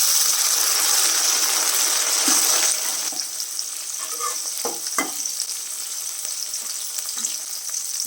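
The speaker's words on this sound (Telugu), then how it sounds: "టమాటా ముక్కలు వేసేసుకున్నాం" Tomato pieces fry in a spiced oil tempering, loud dense sizzling that drops in intensity partway through, followed by a few soft stirring knocks, with no voices.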